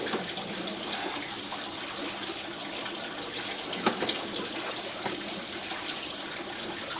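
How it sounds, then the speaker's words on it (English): Water runs steadily from a tap somewhere in a house, a continuous hiss with a gentle trickle, joined by one brief knock or clunk partway through. "Got somebody in the house running water"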